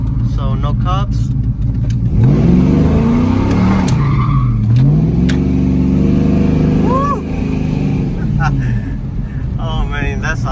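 A tuned 450hp LS V8 car engine roars and revs hard on a street pull, rising and falling in pitch as it pulls, with tires squealing and a voice talking over it.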